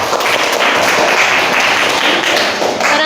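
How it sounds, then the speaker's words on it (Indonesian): Audience clapping in a room after a talk, a dense, loud, steady wash of applause from many hands lasting the whole moment. "Tepuk tangan ya."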